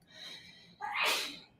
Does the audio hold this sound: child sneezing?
yes